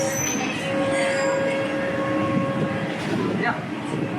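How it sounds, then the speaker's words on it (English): A Disney World monorail heading to the Contemporary rolls along with a steady rumble, and a thin, high wheel squeal rises and fades above it, heard from inside the car amid faint background chatter. "now I'm headed over to the Contemporary on the monorail"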